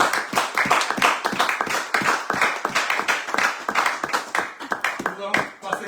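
A church congregation claps rhythmically in quick, steady beats to acclaim the Lord, close and loud, with voices and singing mixed in throughout.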